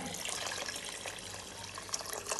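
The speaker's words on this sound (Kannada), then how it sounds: "ನೆಕ್ಸ್ಟ್ ನೀರು ಹಾಕ್ತಿದ್ದಾರೆ" Water pours steadily into a biryani cooking pot, a continuous splashing trickle at close range with no talking.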